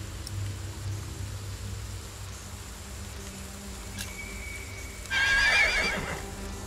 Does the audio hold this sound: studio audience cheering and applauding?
no